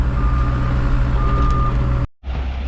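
A work truck at a residential driveway construction site sounds steady, loud reversing beeps over a rumbling idling diesel engine, nearby and continuous before cutting off abruptly.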